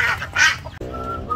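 A duck gives two or three harsh, nasal quacks up close, loud and raspy, followed by a quieter tonal hum in the background.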